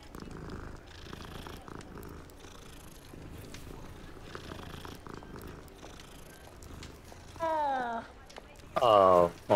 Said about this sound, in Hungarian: Na mindegy, simogassuk meg a cicát, annak több értelme van.